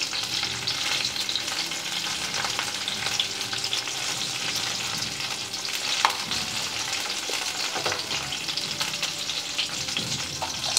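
Stuffed green chillies fry in oil in a pan with a continuous close sizzle and crackle, plus occasional stirring clatter throughout.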